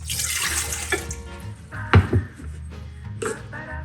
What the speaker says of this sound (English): In a standing mixer, you're gonna put your water